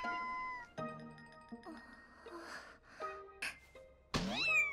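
A cat meows in short, high cries that stand out over a background of musical tones and brief voiced sounds, ending in a louder strained wail.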